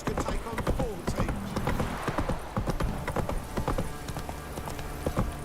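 Roach, the horse from The Witcher 3, gallops with rapid, rhythmic hoofbeats close by, with the occasional neigh, while a character speaks over the galloping.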